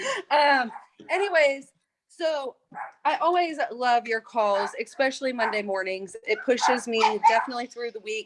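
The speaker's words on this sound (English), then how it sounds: "Excuse my dogs." Dogs bark and yip in the background of a home, mixed under a person's continuous close talking throughout.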